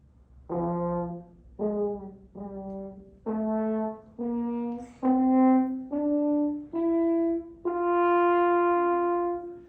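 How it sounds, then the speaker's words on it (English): A horn played without keys or valves, the player's hand in the bell shaping each note, steps up a scale of about nine separate sustained notes, each clear and close with short gaps between them. "I just played a whole scale with no keys."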